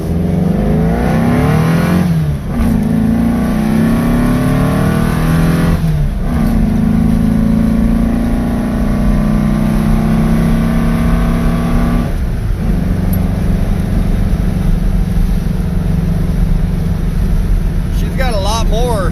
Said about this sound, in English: Some big old carbs on a big old engine.